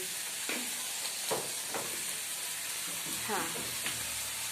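Bread patties fry in a pan with a constant sizzle, broken by a few soft stirring scrapes and what sound like brief voices in the background.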